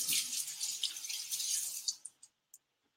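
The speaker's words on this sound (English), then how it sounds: "I'm gonna wash my hands." Tap water runs steadily while hands are washed under it, a bright splashing rush that stops abruptly, followed by a few last isolated drips in the quiet.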